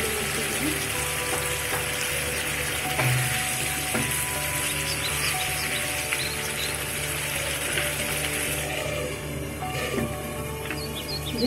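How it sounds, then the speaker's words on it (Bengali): An egg chicken masala curry cooks covered on a low gas flame, giving a steady close sizzle and frying crackle that runs throughout with faint clinks. "এবারটিকে ঢেকে খুব ধীরে ধীরে এটাকে রান্না হতে দেবো, গ্যাসটা একটু কম করে দিয়ে।"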